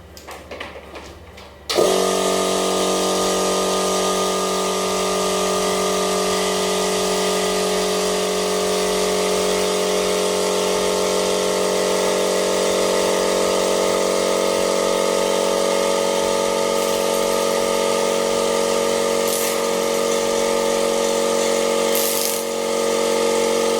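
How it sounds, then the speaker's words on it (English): Portable pneumatic screw capping machine running on compressed air, a steady loud mechanical hum with a tonal whine that starts abruptly after a brief quiet moment and holds without pause. "So as you can see, it's a pneumatic machine."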